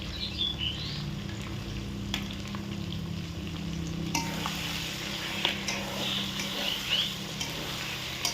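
Spice paste of ginger and chilli being stirred into country chicken in a hot pan, a steady close sizzle with soft scraping and occasional clinks of a utensil against the pan.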